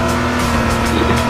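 A cop car in the H1Z1 game drives hard, its engine holding a loud, steady drone close up with a hint of tire noise.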